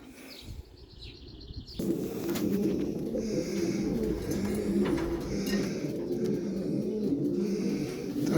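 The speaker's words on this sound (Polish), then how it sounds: "Przydałoby się wejść do gołębnika, powpuszczać niektóre gołębie do, do celu." Pigeons in a racing loft give steady low cooing with bird calls over a continuous busy background, after a brief quieter start, close and fairly loud throughout.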